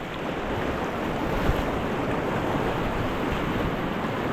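Rushing white water on the Ganges while rafting, a loud, dense, unbroken roar of churning rapids with wind buffeting close to the microphone.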